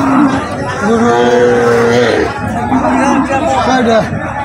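Cattle moo loudly and repeatedly at a busy rural cattle market in Madhabpur, with long drawn-out calls rising over a constant babble of nearby voices and traders talking.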